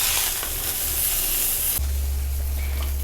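Sun-dried cured beef fries in a pan with a steady close sizzle, shifting partway through as the meat is turned and a low rumble joins in, no talking.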